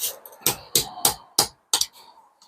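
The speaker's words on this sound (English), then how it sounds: "we're going to attack it now with the raking chisel, which helps us to level it out a bit easier" A raking chisel is struck repeatedly against a stone lintel, giving six or seven sharp, close, evenly spaced metallic knocks with short gaps between them and no talking.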